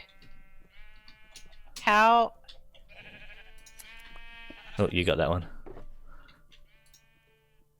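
Sheep bleat twice while being sheared in a video game, two loud wavering bleats standing out clearly over chatty voices and soft chiming game music.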